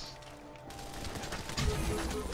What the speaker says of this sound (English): Are people still shooting at me?